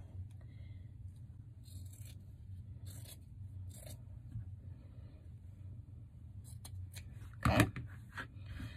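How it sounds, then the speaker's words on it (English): Scissors cut craft material for a Dollar Tree pumpkin snowman in a few short, close snips over a low background hum, with one louder snip near the end and a brief spoken word. "so we cut it there"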